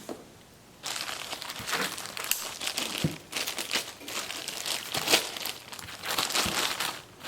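Plastic wrapping around a new Uberti 1861 Navy revolver crinkles and rustles up close, handled in uneven bursts after a brief quiet start.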